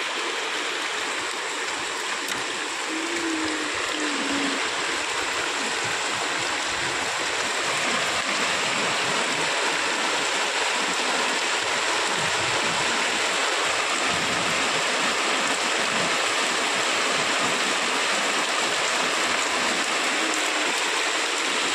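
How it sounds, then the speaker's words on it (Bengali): Heavy rain pouring down steadily, a dense, loud continuous roar of water with no pauses, close and alone. "অনেক জোরে জোরেই বৃষ্টি হচ্ছে।"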